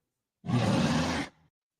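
A person voices a loud, growling roar imitation, one sustained burst of about a second that ends abruptly with a short breathy tail, heard alone with no other sound around it.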